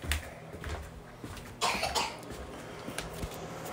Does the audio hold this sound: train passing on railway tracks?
no